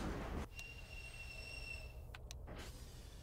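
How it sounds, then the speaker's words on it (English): A video game train pulls into a station, a quiet low rumble under high, thin, steady squealing tones, ending in a few short sharp metallic clicks. "A train just stopped."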